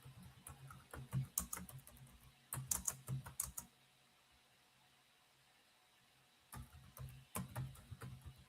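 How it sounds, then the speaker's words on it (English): A computer keyboard is typed on up close, with clustered rapid key clicks in three bursts separated by quiet pauses, crisp and moderately faint, without talk. "I'm just typing a prompt,"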